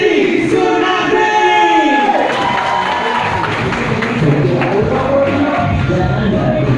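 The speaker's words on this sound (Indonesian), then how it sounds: "Kita kasih tepuk tangan yang meriah untuk Didi Sunardi." An audience claps and cheers for a performer on a stage show: dense, steady applause mixed with crowd shouting and some voices throughout.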